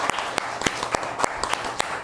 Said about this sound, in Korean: 네 분께 감사의 박수를 다시 한번